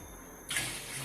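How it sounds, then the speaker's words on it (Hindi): Water poured into a cooking pot (degchi) for steaming a marinated mutton leg raan: a steady splashing gush starts suddenly after a quiet moment and continues close and fairly loud. "हम पानी ऐड कर रहे हैं।"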